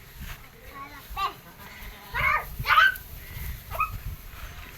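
Young goat bleating after an injection in a Sindhi village, several short wavering bleats in irregular bursts, fairly close, with village background noise and other animal or human sounds around it.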